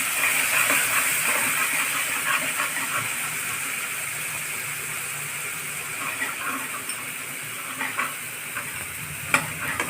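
Spice paste of garam masala, cumin, coriander, chilli and turmeric mixed with water frying in a pan for chana masala, a steady loud hissing sizzle with occasional stirring knocks.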